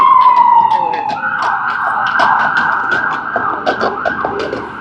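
An ambulance siren wails outdoors on a busy street in Canada in spring, a loud, steady tone sweeping up and holding, while people talk close by over it.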